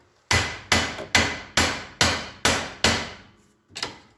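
Seven sharp, loud hammer whacks land at an even rhythm on a stubborn tie rod joint of a Polaris RZR during a front wheel bearing job, followed by one softer strike after a short pause.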